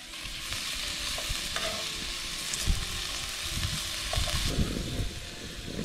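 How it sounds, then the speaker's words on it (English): Food frying on a hot, uneven rock outdoors beside water, a continuous close sizzle and crackle with intermittent scraping and stirring, no voices. "As you can see, we're cooking on a rock here"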